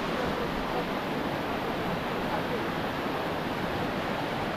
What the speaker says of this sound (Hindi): देख सकते हैं गाइस काफी बड़ा वाटरफॉल है और दोनों पहाड़ के बीच में ये वाटरफॉल है